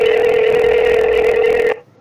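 A steady telephone tone sounds loud and close for nearly two seconds and then cuts off abruptly, as a call to the police emergency number 100 goes through. No one speaks over it.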